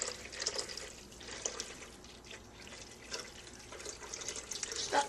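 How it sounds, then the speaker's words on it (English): Coconut milk is poured from close by into a blender for chocolate coconut chia pudding, giving a faint, continuous liquid splash and trickle with small drips. "he's going to put 2 cups of coconut milk in there"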